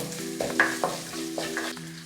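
Four cloves of crushed garlic sizzle as they are sautéed in a pan, with soft stirring scrapes and a faint hum in the background.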